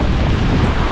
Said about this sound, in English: Crazy waves.